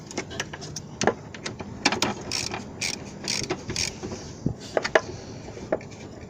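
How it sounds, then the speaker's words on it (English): Socket ratchet working loose the 10mm bolts on the electrical connections of a 1999 Ford Expedition during passenger-side valve cover removal: a run of sharp, close clicking bursts at irregular intervals, with no talk. "now that I got these two 10mm bolts for the electrical connections loose"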